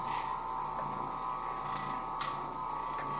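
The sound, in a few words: Oreck Orbiter floor machine cleaning sculpted carpet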